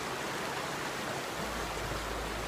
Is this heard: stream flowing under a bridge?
yes